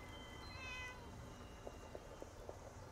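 A cat in Fallout 76 gives one clear, drawn-out meow, followed by a few soft, faint taps and clicks in quiet surroundings.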